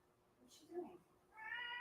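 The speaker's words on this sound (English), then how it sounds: "she's down here meowing in my face" A house cat meows close up, first a short call and then a longer, rising meow, with a person talking faintly in the background.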